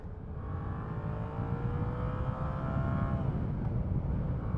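A 2018 Yamaha MT-07 Tracer 700 engine pulls steadily while the bike is ridden, its rising tone climbing under heavy wind rush before easing off near the end.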